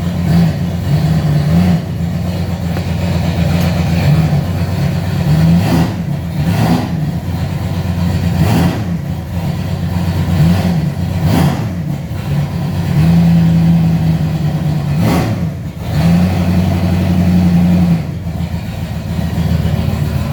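A 1995 Mustang with a swapped-in C4 automatic transmission revs hard up close, its engine note rising and falling in repeated loud surges over a steady rumble.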